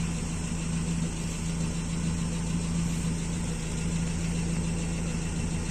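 A motorcycle with a freshly repaired FMT carburetor idling steadily, recorded close to the exhaust, giving a constant, even low hum with no changes in speed.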